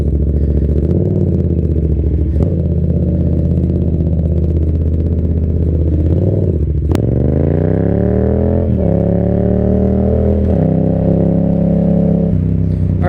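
A 2018 Yamaha XSR700 motorcycle fitted with an M4 exhaust, ridden on the road: a steady, loud mid-pitched engine drone with rising revs through the gears, a sharp click midway, then a fresh climb in pitch as it accelerates.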